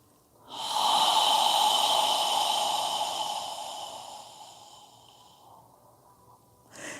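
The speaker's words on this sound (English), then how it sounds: "imagine you're fogging a mirror with your breath as you exhale" A single long, deep exhale during yoga breathing, a soft breathy hiss like fogging a mirror, loud at first and slowly fading over several seconds, followed by the start of a new breath.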